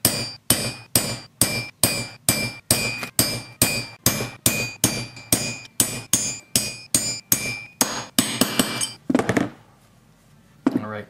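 Hammer blows drift a pinion bearing race out of the differential case of a 1979 Triumph Spitfire 1500, about two dozen sharp metallic taps at a steady, quickening rhythm, close and clear, ending in a few final strikes.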